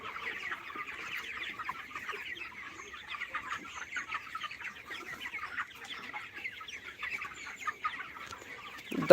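A flock of chickens on a poultry farm clucks and chatters continuously at moderate distance, a busy, layered murmur of hens with no voices.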